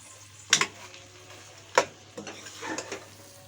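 In a chicken karahi, chopped ginger and green chili fry with a faint, low hiss, broken by a few sharp spoon-on-pan clanks and scrapes.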